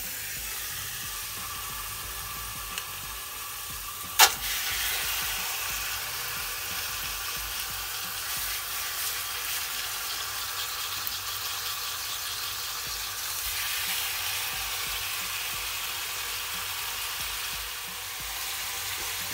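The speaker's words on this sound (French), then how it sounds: "Quand l'huile est assez chaude, vous pouvez disposer donc les tendrons de veau." Veal tendrons fry in hot olive oil in a large pot, giving a steady, close sizzle and hiss with a single sharp clink early on and no talking.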